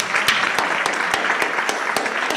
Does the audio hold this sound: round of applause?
yes